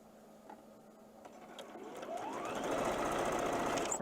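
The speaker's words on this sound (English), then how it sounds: "I'm going to sew these together in units just like that, so that I can cut them apart in pairs" A sewing machine sews quilt fabric pieces together, starting with quiet handling clicks before the motor speeds up and stitches rapidly and steadily up close.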